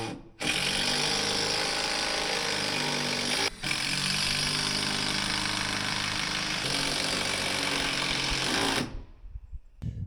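A power driver sinks structural screws into deck brackets, a loud sustained mechanical whir lasting several seconds with one brief pause, then cutting off abruptly near the end.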